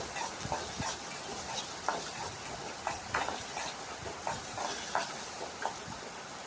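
Moringa leaves are sautéed in a pan, with faint, regular scraping clicks of stirring over a soft background hiss.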